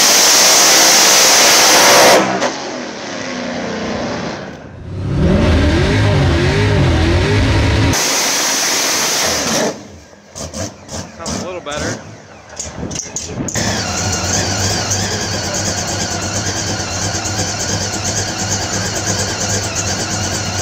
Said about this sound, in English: every time he reaches a certain amount of boost, it blows the charge pipe off right at the coupler.